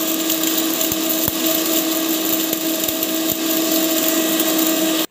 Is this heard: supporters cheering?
no